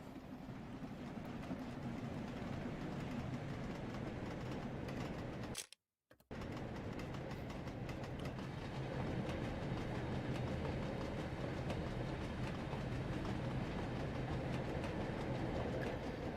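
A steam train rumbles past in the Train Sim World 2 game, a steady, loud rolling roar with rail clatter that breaks off in a brief dropout, then resumes.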